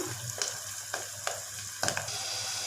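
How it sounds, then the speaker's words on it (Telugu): Tomato pieces sizzle in hot oil with salted fish, a steady broadband frying hiss broken by a few sharp spatters and spoon scrapes, close and continuous with no voices. "చక్కగా టమాటో ముక్కలు వేసాను"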